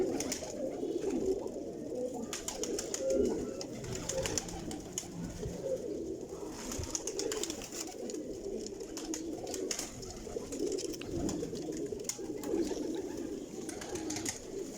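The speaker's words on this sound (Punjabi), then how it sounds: "ਇਹ ਹੁਣ ਪੁਰਾਣੇ ਦੇਸੀ ਕਬੂਤਰ ਨੇ, ਪੁਰਾਣੇ ਦੇਸੀ ਕਬੂਤਰ" Old desi pigeons coo steadily on a rooftop, a soft continuous murmur of overlapping low calls from several birds at close range, with no voices.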